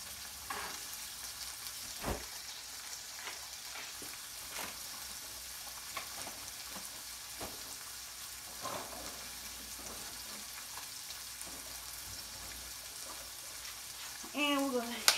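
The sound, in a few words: peppers sizzling as they are sautéed in a pan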